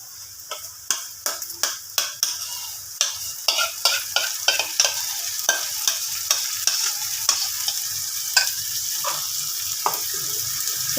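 Okra fried until dry is stirred through a spice paste in a hot pan, a Memoni-style bhindi salan: sharp spoon scrapes and clacks land at an irregular pace over a steady close sizzle, with no voices.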